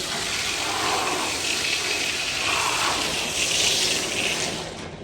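Steady gushing, splashing soapy water runs continuously for several seconds while washing a motorcycle, loud and close, with no voices.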